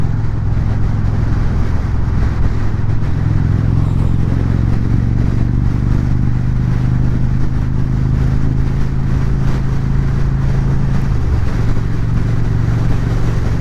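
An accelerating motorcycle engine drones loudly and steadily with heavy road and wind rumble throughout, close and continuous.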